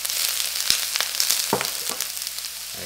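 Chopped white onion frying in a pan, a steady close sizzle with a few sharp clicks of the spatula against the metal, no voices.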